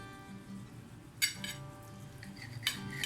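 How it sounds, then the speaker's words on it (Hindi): A knife slices a cooled, cooked homemade chicken chunk mixture into pieces, giving a few sharp clinking taps against the cutting surface over a quiet background, with no talk. "अब मैं इसको चंक्स की फॉर्म में हम काट लेंगे।"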